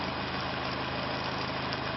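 Two small electric motors, each hooked to a coil, run together in a steady, dense mechanical hum with a constant low drone and no change in level.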